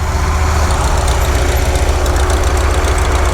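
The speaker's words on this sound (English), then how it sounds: "There goes a Massey Ferguson with a John Deere 2-bottom." A Massey Ferguson tractor pulling a John Deere two-bottom plow through dry ground at a fall plow day, its engine chugging loudly and steadily up close with a knocking idle-like rhythm and no voices.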